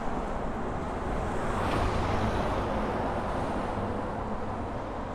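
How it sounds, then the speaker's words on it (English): Busy noon traffic on Meiji Street in Tokyo, a steady broadband roar of cars, trucks and buses passing close by, with a brief swell near the two-second mark and no voices. "Noisy car noises around, because it's next to the big street."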